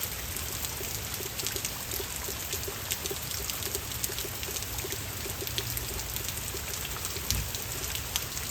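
Heavy rain pours onto a street in a steady, dense hiss, with scattered closer drips and splashes throughout.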